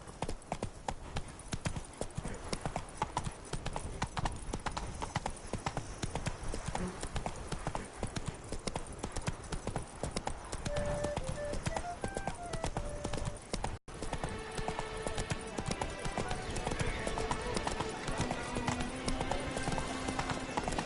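Steady rhythmic hoofbeats of a horse trotting in The Witcher 3 video game run continuously, with game music and brief tonal effects layered over them and voices faintly present.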